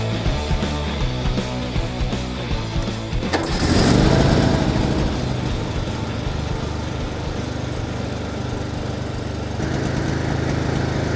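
A small lawn tractor engine runs steadily and close by, rising to a louder, rougher roar partway through, then settling into an even drone.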